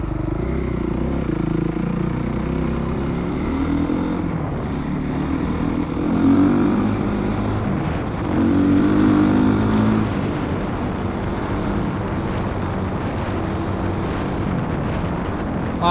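A motorcycle engine on a dirt trail, running as a steady drone with rises in revs around the middle as the throttle opens, loud and continuous.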